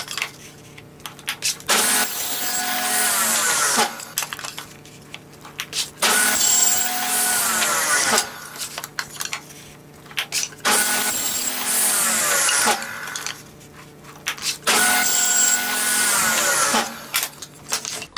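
A power saw cuts compound angles in wooden parts for a garden obelisk trellis, making four or so loud, whining cutting passes at regular intervals over a steady motor hum.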